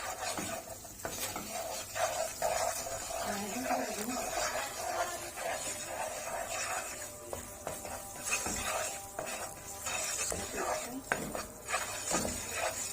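A utensil keeps stirring and scraping flour through hot ghee in a pot for béchamel, a continuous gritty sizzle with rhythmic metal scrapes against the pan, and someone talks quietly over it.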